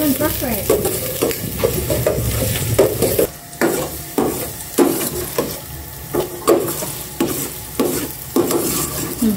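Garlic frying in a hot pan sizzles loudly while a spatula stirs and scrapes in uneven bursts, the hiss swelling and dropping between stirs, with no voices.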